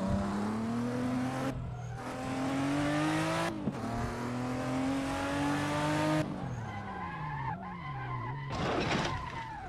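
Toyota Supra driven in the Assetto Corsa racing game, its engine revving high and shifting through gears, with tires squealing and skidding as the car is pushed hard on a mountain road.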